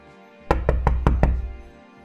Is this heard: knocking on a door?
yes